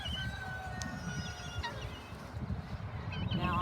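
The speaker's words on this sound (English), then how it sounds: "You can hear the guineas are starting to join us." Guinea fowl call out around a farm garden during kale and turnip planting, a few harsh, repeated cries rising over steady outdoor background noise at moderate distance.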